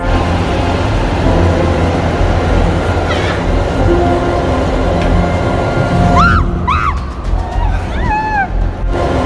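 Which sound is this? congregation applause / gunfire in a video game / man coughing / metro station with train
metro station with train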